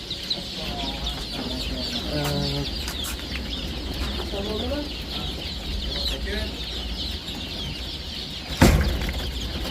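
Leghorn chicks cluck and cheep intermittently in a busy coop, short chirping bursts over a constant background hum, with a sharp knock near the end.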